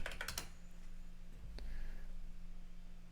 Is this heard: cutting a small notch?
no